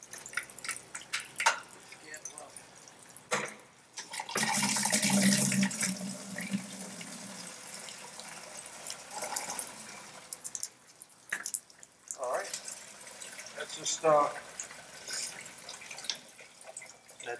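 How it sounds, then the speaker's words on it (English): Water gushing from a cracked-open drain valve on a drained main fill line, a loud hissing rush that bursts in and then continues as a steadier flow, with some spoken voices around it. "here we wanted to show by cracking valves how much water is still left"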